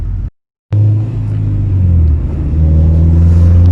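A Honda Ferio EG sedan engine rumbles with a deep, steady drone that cuts out briefly at the start, then returns and holds an even hum.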